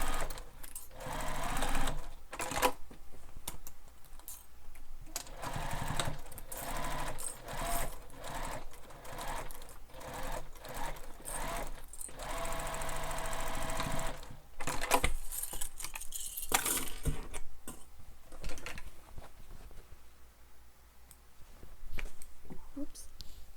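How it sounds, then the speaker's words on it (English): A sewing machine sews the seams of a crossbody bag in repeated short bursts and longer runs, with nearby clinks and handling noises between stitches over a long stretch. "I'm stitching right on top of those previous stitches"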